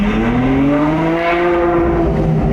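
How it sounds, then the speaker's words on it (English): A loud, deep V12 engine of a Ferrari 812 GTS with a Novitec exhaust drones close by, its muffled note with exhaust valves closed rising steadily in pitch as it accelerates. "V12 starts off really loud and then the valve's closed."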